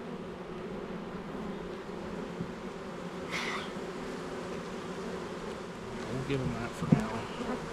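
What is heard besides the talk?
honey bees buzzing on the wall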